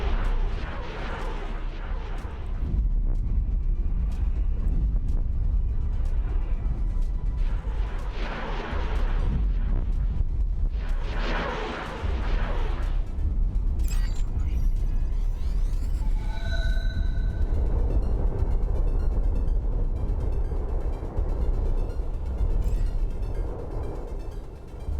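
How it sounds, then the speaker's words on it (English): Explosions rumbling in the Star Wars Interworlds video game, a continuous deep booming barrage with repeated heavy blasts in waves, sharp cracks and a brief electronic tone mid-way, loud and sustained. "the rumble of those explosions"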